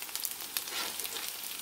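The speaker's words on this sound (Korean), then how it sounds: "지금 호박전을 부치고 있어요" Zucchini pancakes made from shredded squash fry in a pan, producing a steady, quiet, crackling sizzle throughout with no voices.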